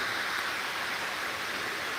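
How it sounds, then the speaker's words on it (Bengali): Steady rain pours over Chittagong city in Bangladesh, a dense, even hiss of falling water that stays constant throughout with no talking. "বৃষ্টি হলে সত্যি চমৎকার লাগে"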